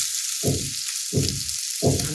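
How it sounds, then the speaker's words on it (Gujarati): Karela-stuffed mirchi vada frying in hot oil: a steady, bright sizzle throughout, with three low bubbling surges at a regular pace. "હવે તેલમાં આપણે સારી રીતે એને ફ્રાય થવા દઈશું"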